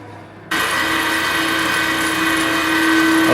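A reel grinder starts abruptly and spins an Allett CC348E mower reel, a loud steady whirring drone with a sustained tonal hum, unbroken to the end.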